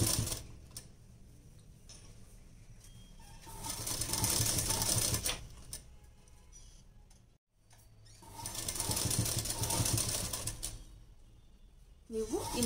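An electric sewing machine stitches narrow piping onto a blouse, running in two sustained bursts of steady whirring with quieter pauses between, close and clear with no talk.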